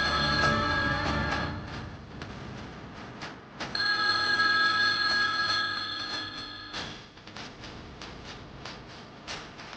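A telephone bell rings loudly in repeated bursts through a domestic scene, with no talk heard in the clip.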